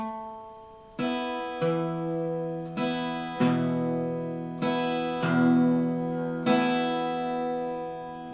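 Acoustic guitar playing the intro measure of a song slowly, with about six distinct plucked note groups, each ringing out and decaying, clear and close with no talking.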